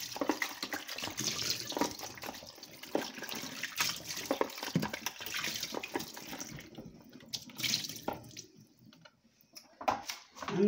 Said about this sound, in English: And I'm just washing my apples.